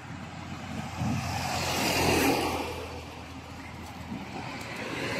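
Road traffic in Hong Kong, with cars rolling past in a steady broadband rumble that swells to a louder pass midway and then eases, heard from the roadside without talk.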